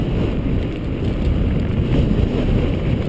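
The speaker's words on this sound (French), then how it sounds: "il y a le vent en face" Headwind buffeting the microphone along a long straight road near Fos-sur-Mer, a steady low roaring rumble that fills the whole clip with no break and no talk.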